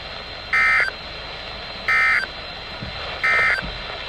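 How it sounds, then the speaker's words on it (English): Severe weather alarm tones from a NOAA Weather Radio station come through as three loud, flat electronic beeps, each lasting about a third of a second and spaced evenly over a quiet background. "This station will broadcast severe weather alarm tones"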